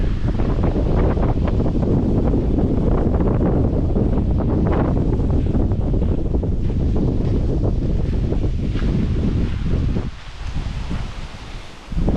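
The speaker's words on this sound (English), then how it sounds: "Pretty nasty out and windy." Strong storm wind on a coastal cove in Lubec, Maine, roars and buffets the microphone in a loud, continuous rush before easing slightly near the end.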